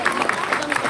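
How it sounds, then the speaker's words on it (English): A brief burst of audience applause for a prize winner at a live event, clapping heard under a speaking voice. "Give him a big round of applause."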